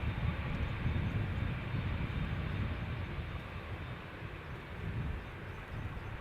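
An Embraer jet bound for Frankfurt rolls along Schiphol's Polderbaan runway, a steady deep engine roar that swells slightly then eases, distant but full, with no voices.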